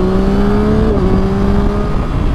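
Motorcycle riding heard from inside a Ruroc Atlas 3.0 helmet: a steady engine drone with a humming tone that shifts slightly in pitch, wrapped in constant loud wind rush, no talking.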